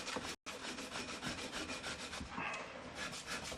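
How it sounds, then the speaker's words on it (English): Wood of a W. W. Greener shotgun stock being sanded with 180 grit sandpaper on a flat block, heard as a steady, close, rhythmic rasping of quick back-and-forth strokes with one brief pause early on. "Always use something square and flat when you're using sandpaper."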